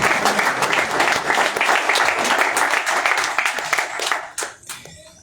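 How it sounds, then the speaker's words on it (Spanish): Audience applause at a book launch forum, dense and loud, sustained for several seconds before thinning into a few scattered claps at the end. "Un aplauso para don Mario también."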